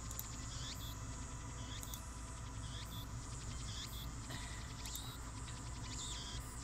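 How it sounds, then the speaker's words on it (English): Cicadas buzz and chirp from a few trees beside a small shrine in Akiba in the video game Steins;Gate, a steady insect chorus with repeating high pulses over a constant low ambient hum. "I can hear the chirping cicadas from the few trees growing here."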